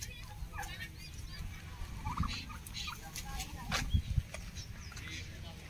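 Domestic fowl at a resort farm, gobbling and clucking calls in a few bursts over low background rumble, with people talking nearby.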